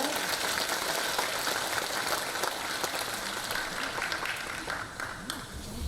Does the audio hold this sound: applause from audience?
yes